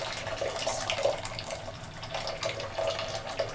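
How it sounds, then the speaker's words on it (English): Hot water runs from a tap for fabric dyeing, a soft continuous splashing hiss with slight gurgles, fairly faint and close. "Again, adding the hot water."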